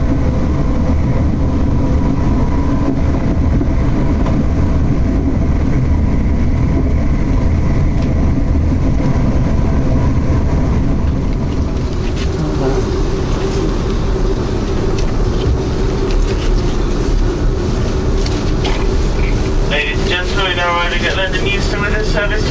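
Passenger train running steadily, the 0733 service to London Euston, a continuous rumble and rolling noise throughout with a brief higher squeal or chirp near the end, heard from inside the carriage.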